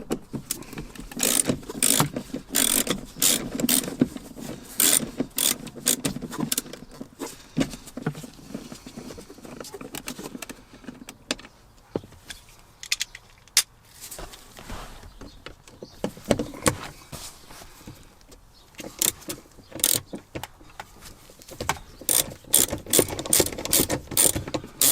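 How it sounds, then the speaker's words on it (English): A ratchet works loose the two Torx 20 screws holding a seat in a Volkswagen Golf Mk4, giving quick bursts of clicking that stop and restart, close by, with faint handling noise in the pauses. "we're going to remove these two Torx 20 screws now,"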